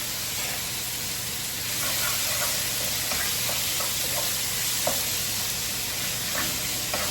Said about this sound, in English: Alright, oil is hot. Let's go in and start sauteing our shrimp.